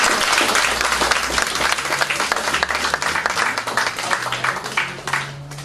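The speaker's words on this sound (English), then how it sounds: "Give them a round of applause." Audience applause and clapping at a Northern Praying Mantis kung fu demonstration, a dense, steady round of hands from a crowd lasting several seconds before tapering slightly.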